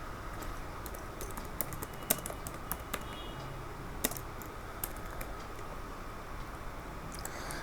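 Typing on a computer keyboard while writing HTML, a steady patter of soft key clicks with occasional sharper taps over a constant background hiss, close but quiet.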